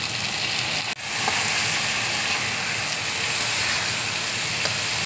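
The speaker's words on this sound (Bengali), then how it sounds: "এবার আলুর বলসগুলো আমি দিয়ে দিচ্ছি। সয়া সস দেখো দিয়ে দিচ্ছি।" Potato balls with soy sauce sizzling hard in a hot pan, a dense, steady frying hiss that stays loud and continuous, broken only by a brief dip near the start.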